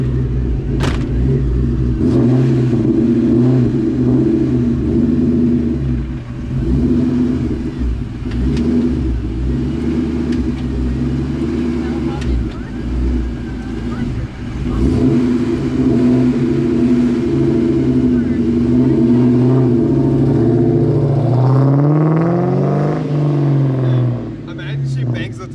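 A Ford Mustang with the NewEdge 2-valve engine revs while being driven, its low engine note droning steadily, swelling and dipping as the throttle changes, with a rising rev near the end; people talk over it.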